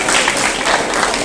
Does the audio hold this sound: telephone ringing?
no